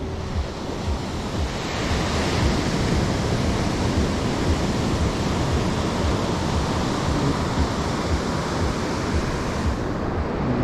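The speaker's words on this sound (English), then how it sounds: "This is the beach" Ocean waves surf steadily onto Mobor Beach in Goa, India, a loud, continuous wash of breaking water with some wind noise, close and unbroken throughout.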